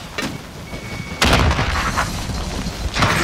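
Stun grenade detonating in the Shoothouse multiplayer map, with a sudden loud bang followed by a ringing, noisy wash and a second burst of noise moments later.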